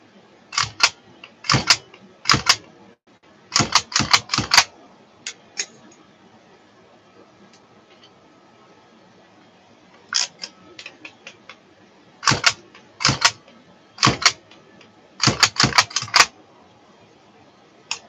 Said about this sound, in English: I'm punching keys. We need new keys.